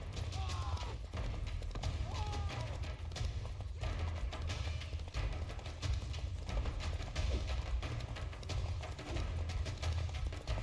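In The Witcher 3, the horse Roach gallops along with steady, busy hoofbeats under a dense wash of game ambience and low rumble, the clatter continuing without a break from start to finish.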